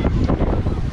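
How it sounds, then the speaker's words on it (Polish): Wind blowing hard across the microphone outdoors, a loud continuous low rumble and buffeting gusts with no talking. "Tu już wieje."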